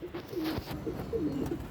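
A Ferozpuri pigeon coos close by in soft, repeated throaty calls over a quiet background with faint hiss.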